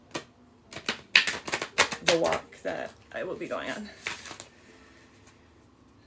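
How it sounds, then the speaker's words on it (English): A tarot card deck is shuffled by hand in a run of sharp, crisp clicking bursts, close by, while a person talks over it. "by shuffling the deck, we're just shedding off the energy of previous"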